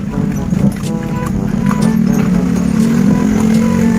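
A horse's hooves clip-clop in a steady rhythm while pulling a kalesa carriage through street traffic in Colon, Cebu, with constant engine and road noise underneath.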